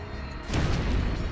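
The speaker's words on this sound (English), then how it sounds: "Explosion." A sudden loud boom from an explosion in the video game Final Fantasy X bursts in halfway through and holds as a dense, noisy roar to the end.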